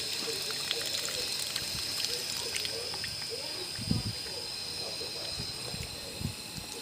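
Garden watering, with water pouring and trickling onto soil in a soft, continuous stream over steady background hiss, and a few louder splashes.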